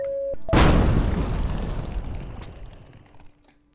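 In the video game Keep Talking and Nobody Explodes, a bomb detonates after a short beeping tone: a sudden loud boom followed by a rumbling decay of roughly three seconds that fades into a faint hum.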